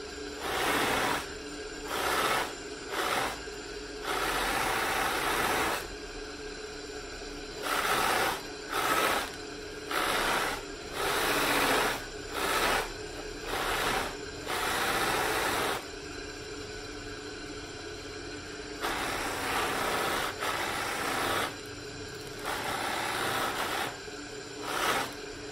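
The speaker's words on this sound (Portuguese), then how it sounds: "O pomo provavelmente é a parte mais perigosa para você polir o cabo." Repeated bursts of rasping, rubbing abrasion as a custom knife's bone handle is polished, working around the rounded pommel. The bursts are close and moderately loud, separated by short pauses, with no talking.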